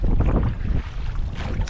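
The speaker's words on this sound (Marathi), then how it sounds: "तुम्ही बघू शकता वारा बघा किती आहे आज" Strong wind at sea battering a fishing boat, a loud continuous roar with heavy gusty buffeting on the microphone and no voices.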